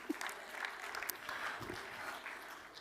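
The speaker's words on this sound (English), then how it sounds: "Can we have a big round of applause for the large synthetic screen, ladies and gentlemen?" Audience clapping at an awards ceremony in a large hall at a summit in Brussels, a moderate continuous round of applause heard at some distance, with a few sharper claps standing out.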